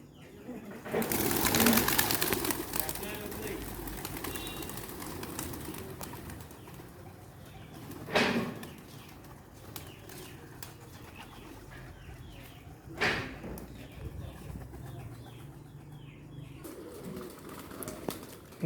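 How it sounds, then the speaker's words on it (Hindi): Soft pigeon cooing comes and goes in the background, with a few sharp knocks and occasional voices nearby. "ये कबूतर जो सैंड पर हैं ये"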